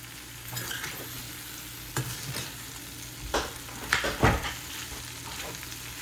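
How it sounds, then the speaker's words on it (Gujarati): Okra tipped into a hot turmeric tempering and stirred in a pan: a steady low sizzle with scraping spatula strokes that grow louder near the end, no voices. "હવે નાખી દઈએ ભીંડા એમાં. હવે આપણે એના મિક્સ કરી દઈએ."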